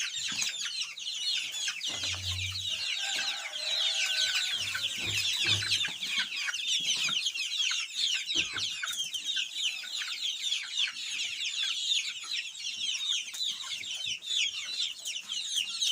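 Chickens cluck and chirp continuously nearby, with a low grunting animal sound briefly in the background.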